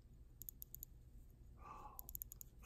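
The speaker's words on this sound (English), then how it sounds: "It's manual wind, so let's see if you can hear it." Soft, rapid ticking clicks from the crown of a manual wind watch being wound, two quick bursts of several clicks each, close and quiet, with a brief rustle between them.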